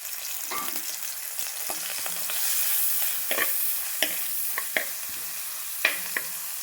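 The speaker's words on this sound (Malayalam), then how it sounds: "വെളിച്ചെണ്ണ ചൂടായപ്പോൾ ഞാൻ ഇഞ്ചി വെളുത്തുള്ളി ചതച്ചത് ഇട്ട് കൊടുക്കുന്നുണ്ട്" Crushed ginger and garlic fry in hot coconut oil for a mutton and raw banana curry, with a steady close sizzle and intermittent scraping stirs of a spoon in the pan, no voices.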